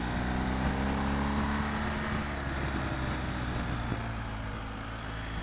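A motorcycle sweeps through bends on a mountain road out of Bucharest toward Cabana Voina, its engine a constant droning hum mixed with heavy wind roar, steady and close throughout.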